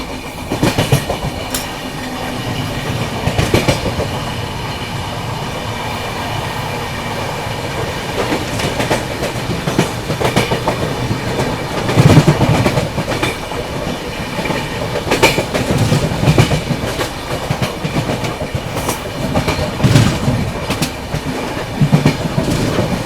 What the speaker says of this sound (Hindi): अभी देखो बरसोई निकलने के बाद बहुत ही शार्प कर्व आता है, ये पूरी ट्रेन घूम गई है इधर पे।